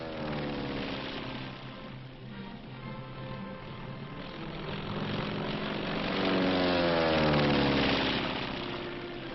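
An L-19 light propeller aircraft diving at a ground target. Its engine drones steadily and rises in pitch and loudness as it swoops in, then eases off, heard at moderate distance with no talking.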